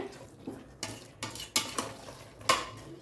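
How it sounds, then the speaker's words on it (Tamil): Mushrooms sautéing and being stirred in a pan for a pressure-cooker mushroom biryani, with a spoon scraping and clinking against the metal several times over a faint background sizzle, close and moderately quiet, no talking. "பாருங்கள் இந்த காளான் வதங்கிட்டு இருக்கு"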